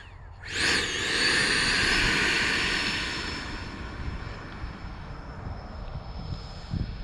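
A Freewing L-39 RC model jet in Russian camo powers up for a takeoff from grass, its ducted-fan whine rising sharply to a loud, close, high-pitched roar and then easing off as it moves away.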